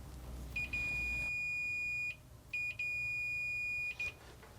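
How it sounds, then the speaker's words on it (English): A multimeter's steady continuity beep sounds twice, each tone held for over a second with a short gap between them, clear and close. "If there is continuity, the meter will beep."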